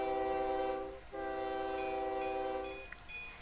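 A train in OpenTTD pulls out of a station with a steady droning horn-like tone that briefly cuts out and resumes, heard alone over a low rumbling background.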